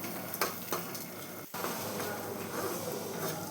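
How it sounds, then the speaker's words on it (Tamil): Moong, toor and urad dal fry in a pan for curry leaf rice, giving a steady dry sizzle with scraping stirs and a few sharp clinks of the spoon against the pan, heard close with no talking. "நம்ம வந்து பாசிப்பயிறு துவரம்பயிறு உளுந்து எல்லாத்தையும் சேர்த்து நம்ம ஃப்ரை பண்ணலாம்"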